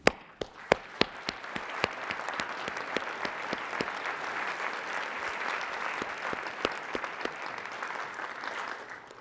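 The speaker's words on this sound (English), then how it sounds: "So we applaud you." Audience applause at an awards-style gathering starts with a few distinct sharp claps, then swells into a steady, even patter of many hands, moderately distant and fairly quiet, with a few crisp claps standing out near the front.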